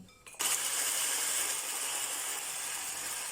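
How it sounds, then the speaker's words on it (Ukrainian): An electric mixer whisks egg whites for a chocolate chiffon sponge cake, starting abruptly with a steady bright whirring hiss that holds nearly constant to the end. "Збиваємо білки."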